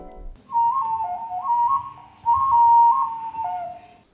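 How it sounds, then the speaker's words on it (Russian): A clay duck-shaped whistle plays a clear, piping, short wavering melody of stepped notes in two phrases, close and loud against quiet. "Вот эта глиняная свистулька в виде утицы применялась для заклички солнца."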